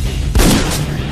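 A single sharp gunshot rings out in a tense film confrontation with rowdies, a sudden loud boom followed by a short ringing decay.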